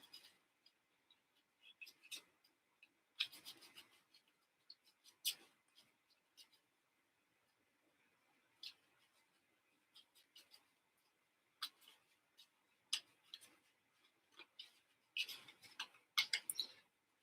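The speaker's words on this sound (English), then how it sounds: "shuffle the cards very quickly" Playing cards shuffled quickly by hand for a tabletop baseball card game, heard as scattered crisp riffling bursts and clicks separated by quiet pauses, close and soft.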